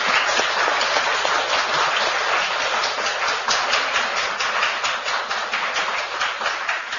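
Steady applause from a gathered crowd at a friendly community sports event, many hands clapping evenly for several seconds with no voices on top.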